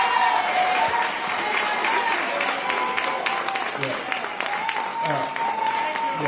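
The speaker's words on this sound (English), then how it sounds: "give a round of applause to Mayor Lightfoot for her hard work" Crowd of residents and trustees giving a round of applause for Mayor Lightfoot at a public meeting, sustained many-handed clapping with some cheering and voices mixed in, steady and moderately loud.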